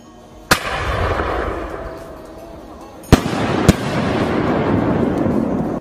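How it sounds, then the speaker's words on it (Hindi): Diwali firecrackers go off outdoors: a steady crackling, rumbling barrage with three sharp, loud bangs standing out, no talk. "मैं तो जा रहा हूँ पटाखे जलाने।"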